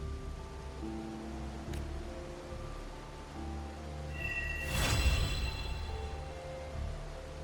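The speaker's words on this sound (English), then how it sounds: "This rain, it's finally happening." Rain falls in the video game Wuthering Waves as a steady hiss under sustained musical tones, with a brief louder rushing swell around the middle.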